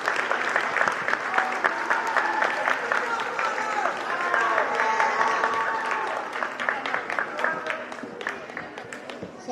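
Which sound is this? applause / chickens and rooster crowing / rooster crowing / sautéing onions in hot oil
applause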